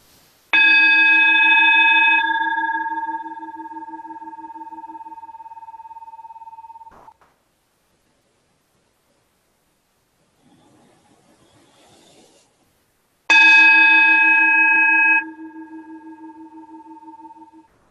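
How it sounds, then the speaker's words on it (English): A single resonant bell struck twice, each strike ringing out clear and loud before slowly decaying, with a near-silent gap and a faint murmur between the two tones. "We'll just end our conversation with a lovely bell here."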